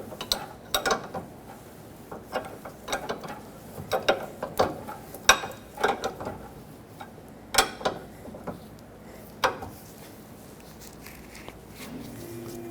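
A ratchet wrench clicks in short irregular bursts while tightening the 18 mm mounting nut on a front sway bar link of a 2006-2010 Hyundai Sonata, close and fairly quiet, with no talking.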